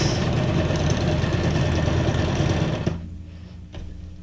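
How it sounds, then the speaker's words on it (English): A sewing machine stitches a row on a junk journal page, a loud, close, rapid mechanical whir for about three seconds before it stops, followed by a faint knock, with no talking. "Got to do another row of stitching on here."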